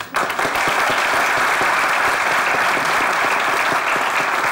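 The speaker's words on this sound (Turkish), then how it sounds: "alkışlıyoruz onları da" A studio audience at a Turkish TV comedy show bursts into loud applause after a brief lead-in, the clapping dense and energetic, with distinct individual claps audible throughout.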